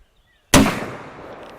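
A single rifle shot cracks sharply at a target, loud and close, followed by a long decaying echo rolling across an open range.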